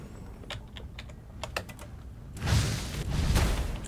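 Computer keyboard keys clack in scattered quick presses while playing an action RPG, soft and close, then a louder rushing burst of game noise swells over the later taps.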